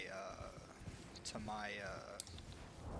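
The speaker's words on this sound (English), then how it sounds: "Let me jump on the horse here" A horse's hooves clip-clop quietly in the video game Elden Ring as the character rides, soft rhythmic thuds partly masked by someone talking over them.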